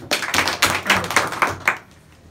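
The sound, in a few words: students clapping for Karishma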